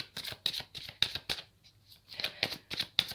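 Tarot cards being handled and drawn, a quick series of close, crisp papery flicks and slaps in an irregular rhythm with a short pause in the middle.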